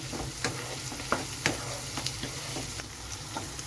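Cashew nuts are stirred in a hot pan, giving a low, steady sizzle broken by a string of sharp scraping and tapping strokes from the spoon, close up, with no talk.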